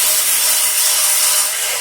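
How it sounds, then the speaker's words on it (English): A small knife-sharpener belt sander grinds against a glass bottle with a loud, constant abrasive rasp that holds unbroken for the whole moment. "this is a knife sharpener that's a little belt sander"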